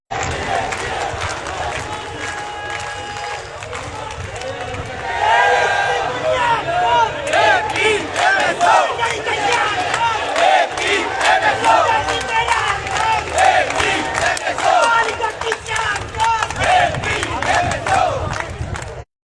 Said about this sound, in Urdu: بھرپور تالیوں میں استقبال کیجئے